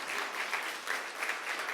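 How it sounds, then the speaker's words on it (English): An audience claps warmly and continuously at a panel introducing women members of Congress, a dense, even patter of applause with no voices over it. "It's when we clap."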